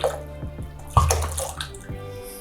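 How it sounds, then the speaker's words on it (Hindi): Cold water is poured onto freshly cooked rice in a kitchen, a close splashing gush with a sharp surge partway through, then trickling and tapering off. "हमारा राइस कुक हो चुका है और अब हम इसमें ठंडा पानी डाल देंगे"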